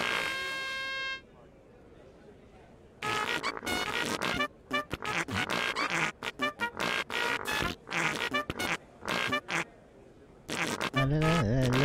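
Cartoonish fart noises burst out in a rapid stuttering series of short blasts and gaps, loud and close, trailing into a wobbling squeal at the end, after a brief sustained horn-like tone at the start.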